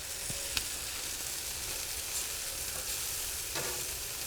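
Scallops searing in butter on a cast iron pan heated above 400 degrees, giving a loud, continuous close sizzle with a few sharp pops and spatters scattered through it.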